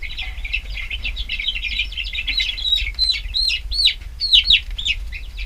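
Hens being picked up and moved give out a rapid run of high, close, agitated chirping calls that grow louder toward the end.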